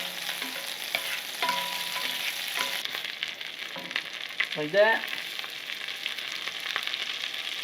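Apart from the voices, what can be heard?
brook trout sizzling in butter in a pan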